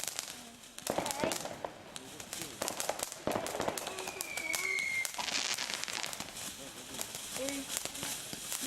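Fireworks go off outdoors at a bonfire night celebration, with sharp crackling bangs and a whistling rocket streak, while children and adults talk and call out nearby throughout.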